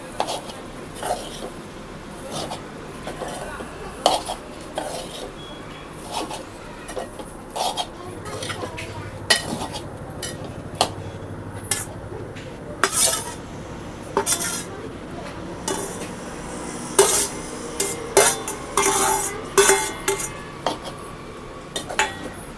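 Masala rice being stirred in a metal pot, with repeated scraping clinks of a spoon against the pot and dish clatter throughout, growing busier toward the end.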